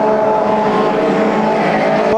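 Junior sedan race cars roar together at Manjimup Speedway, a loud, steady engine drone with a rising pitch held throughout, close and continuous with no break.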